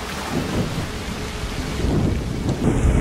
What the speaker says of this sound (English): Like that the rain sound sounds nice.